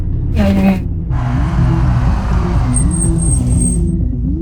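A car pulls over to a roadside, its engine rumbling low and close throughout, with voices talking over it and a brief high whine near the end.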